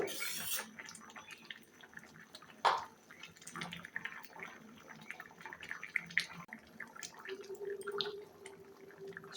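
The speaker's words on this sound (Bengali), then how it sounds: "জল দেওয়ার পর তরকারিতে বলক উঠে গেছে।" A vegetable curry with lentils boils and foams in a pot, giving faint, continuous bubbling with scattered small pops and drips.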